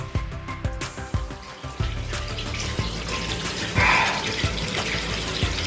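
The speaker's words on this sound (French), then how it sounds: "l'eau qui coule partout là" Cold shower water runs and splashes steadily nearby, with irregular drips and thumps and a brief louder gush midway.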